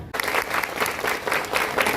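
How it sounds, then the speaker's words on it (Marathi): An audience at a World Indigenous Day gathering in Maval claps loudly, a dense, sustained burst of applause close by. "जोरदार टाळ्या झाल्या पाहिजे."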